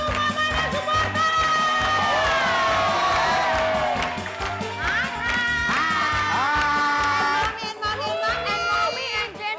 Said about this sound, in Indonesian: Tepuk tangan buat Suma, mana Sumarta?